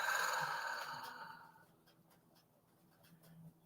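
A long, slow exhale during a guided breathing exercise, a soft breathy rush that starts fairly loud and close, then fades gradually over about two seconds into near silence.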